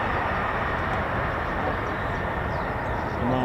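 Six F-15E Strike Eagle fighter jets returning to RAF Lakenheath heard as a steady broadband engine roar, loud and sustained throughout with no break, no voices audible over it.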